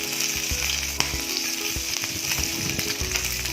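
Chicken wings frying in a hot pan, a loud continuous sizzle with intermittent scraping and clinks as they are stirred, heard close and alone without talk.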